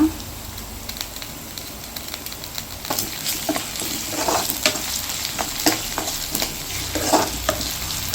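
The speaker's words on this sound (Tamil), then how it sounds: "வெங்காயம் கொஞ்சம் ப்ரௌன் ஆகட்டும், அது வரையிலும் கொஞ்சம் வெயிட் பண்ணலாம். இந்த டைமில் பூண்டு நச்சு வச்ச பூண்டை போட்டுக்கிறேன்" Onion, garlic and ginger sizzle steadily in hot oil in a pan for a dry fish gravy, a constant crackling hiss with occasional louder stirring scrapes throughout.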